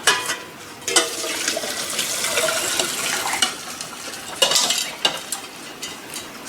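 Soup stock being poured through a metal steamer to strain it, with a continuous splashing, trickling wash of liquid and a few sharp clinks of the pot against metal.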